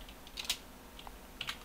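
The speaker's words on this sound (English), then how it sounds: "we'll open up that server console and we'll do bind X, so the X key on the keyboard" Light keyboard typing as a command goes into a server console, a few quick soft key clicks in a short burst against faint background hiss.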